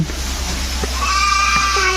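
Goat at a zoo in Kemaman, Terengganu, lets out a close, wavering bleat over a low background hum, with brief murmured voices nearby.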